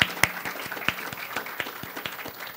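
A small audience of parents, friends and students applauding at a nanoscience summer institute's final presentations, thin scattered claps with distinct individual hits, moderately near and steady for a few seconds.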